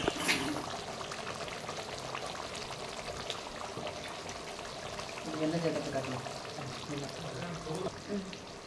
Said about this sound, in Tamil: இப்போ குழம்பு நல்லா கொதி நல்லா கொதிச்சுட்டு இருக்குது